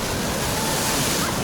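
Sea waves on Cleopatra Beach in Alanya, Turkey, heard as a loud, continuous broadband wash of surf close by, with no distinct breaks in the brief stretch.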